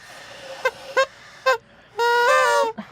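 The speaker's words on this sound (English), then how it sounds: "Everybody's blowing the horn." Several short honks from a toy-like bicycle or clown horn, three quick squeezes followed by a longer held blast and a final short one, loud and close in a podcast studio.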